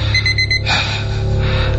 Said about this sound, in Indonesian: aku dibangunkan oleh alarm yang menunjukkan jam 5 pagi